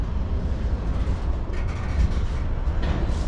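A Norfolk Southern freight train with a GE ES44AC and AC/DC locomotive lashup slows to a halt at a red signal interlocking, heard as a steady, close, heavy low rumble of rolling cars, with some faint squeal over it and no talk.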